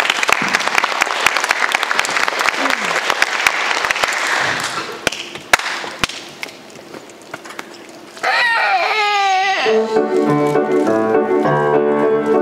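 An audience claps steadily to welcome an elementary school choir at a recital, the applause fading out partway through before the choir begins singing.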